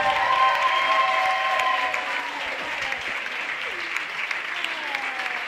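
A crowd at a zouk dance festival in Cologne applauds dancer Jade with steady, sustained clapping throughout, slightly distant, with faint voices underneath.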